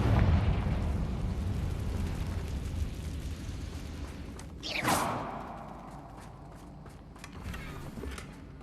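A Confringo fire spell bursts in the game Hogwarts Legacy, a whooshing blast that swells and fades under a rumbling background, followed by quieter movement sounds.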